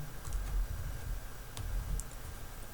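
Keys clatter on a computer keyboard as a code comment is typed, a few quiet clicks close by over a low background rumble.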